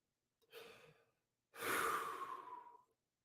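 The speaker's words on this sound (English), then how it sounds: "take a deep breath in" A short breath followed by a pause and then a long, deep inhale drawn in closely and audibly, breathy and full, fading out after about a second and a half, with no talk.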